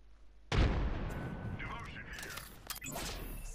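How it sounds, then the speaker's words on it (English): A frag grenade goes off in Apex Legends with one loud, sudden blast followed by a rumbling decay and scattered game noise, with some talk. "Frag grenade sent."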